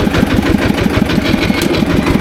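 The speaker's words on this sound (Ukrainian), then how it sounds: "О, трактор поїхав, дивіться як." A Shifeng 240 tractor pulling a DTZ rotary tiller pulls away across a garden plot being prepared for potatoes, its loud diesel engine chugging in a steady, rapid rhythm close by.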